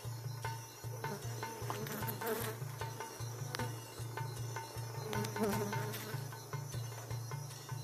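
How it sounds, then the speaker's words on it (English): Dense, steady buzzing of many honeybees close by at a hive in a bee yard, with individual insects droning past and a constant low hum throughout. "Cello to the good honeybee yard."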